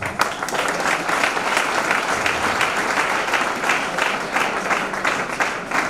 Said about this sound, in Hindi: जोरदार ताली होनी चाहिए दोस्तों।